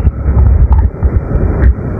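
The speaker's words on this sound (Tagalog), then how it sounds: "Malakas ang hangin ha." Strong wind buffets the microphone during a cycling road-race breakaway, making uneven, close, low rumbling gusts throughout.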